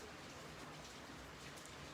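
Steady rain falling outdoors, a soft, even hiss with no breaks, fairly faint and alone.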